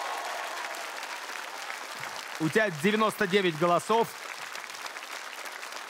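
Studio audience applause and crowd noise for the winner of a TV singing contest's qualifying round, filling the whole stretch, with a voice speaking over the middle.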